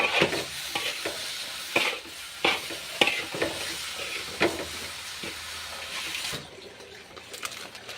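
Sugar simmering in a pan while seasoning is stirred in, with a steady sizzle and hiss under repeated scraping strokes of a spatula, then a quieter stretch near the end.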